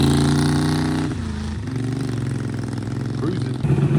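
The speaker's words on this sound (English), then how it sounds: "with the Moto Guzzi rolling out" A Moto Guzzi motorcycle rolls out at a classic car and bike breakfast, its steady engine drone close and loud, shifting pitch slightly as it moves off, with a voice speaking over it.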